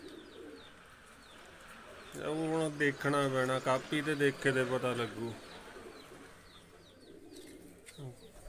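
Pigeons cooing close by, a run of soft repeated throaty coos in the middle, with quieter chirps around and someone speaking softly.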